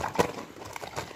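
A horse's hooves clop a few times nearby, with one louder thud early on, over a steady outdoor background.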